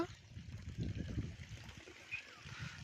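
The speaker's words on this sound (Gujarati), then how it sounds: "બગીચામાં પાણી ચાલુ છે તો અહીં પાણી નીકળે તો મોઢું ધોઈ લઈએ આપણે" Water runs from an outlet in a farm garden where a tractor works, a soft steady splashing trickle heard faintly beneath a voice.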